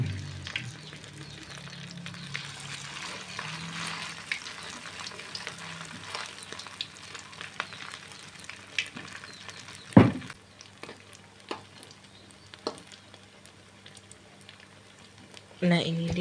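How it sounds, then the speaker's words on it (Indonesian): Cireng, a snack made from leftover rice, sizzles and crackles steadily as it fries in hot oil, with occasional clinks of a utensil and a few louder knocks. "kita goreng sampai berwarna kecoklatan"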